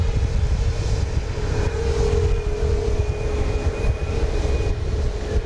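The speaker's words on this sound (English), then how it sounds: "we got this one and 2 others are moving into position to take off" A departing airliner at Dallas Love Field gives off a steady engine drone with a sustained tonal whine, moderately loud and continuous throughout, with no talk.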